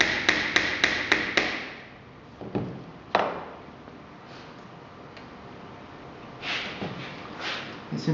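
A quick run of light hammer taps gently driving hinge pins into a box held in a vise, then a few scattered knocks and soft handling noises fading into a quiet room.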